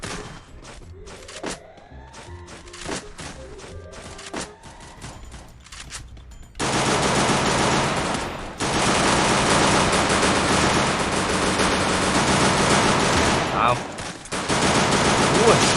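Evo gun firing in the video game Free Fire: scattered single shots with ringing echoes at first, then a loud, sustained burst of rapid automatic fire that continues almost without a break, with no voices.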